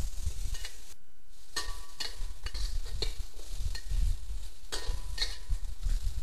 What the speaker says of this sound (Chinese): 把肉丝炒熟之后放入长豆